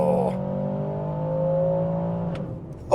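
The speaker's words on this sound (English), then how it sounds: "It does sort of sound like an AMG motor." An Aston Martin DBX 707 with an AMG-sourced engine, set to Sport Plus, holds a steady mid-pitched engine drone that fades slightly toward the end, then a brief rise in revs at the close.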